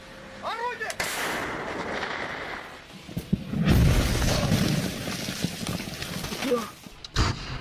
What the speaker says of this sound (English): Just look at how this powerful artillery unit destroys Ukrainian trenches.